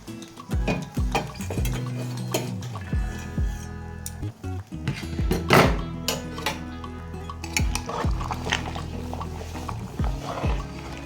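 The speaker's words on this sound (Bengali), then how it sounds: "প্রেশার কুকারে ঢাকনা আটকে দিয়েছি" A metal pressure cooker lid is fitted and locked over cooking goat mutton, with a series of close metallic clanks, scrapes and clinks in an irregular rhythm.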